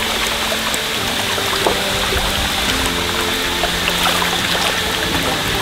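Continuous rushing water from a waterfall at a mountain shrine in Maokong, Taiwan, a steady broadband wash with no talk.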